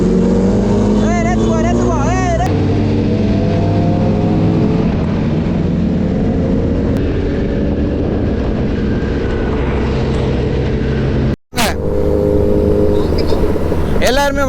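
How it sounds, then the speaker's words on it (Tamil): Several superbikes and other motorbikes pull away together at the start of a drag race, engines revving and roaring loudly and continuously nearby, with overlapping tones rising as they set off and a brief dropout near the end. "எல்லாம் வண்டியும் அப்படியே கிளம்புச்சு பாருங்க."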